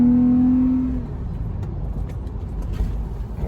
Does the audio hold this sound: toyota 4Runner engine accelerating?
yes